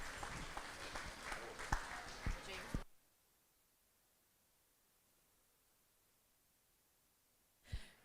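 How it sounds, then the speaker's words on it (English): Audience applause at a state fair market hog show, a short burst of clapping with a few louder claps that stops abruptly, then near silence and a brief noise at the end. "Let's give him a nice round of applause"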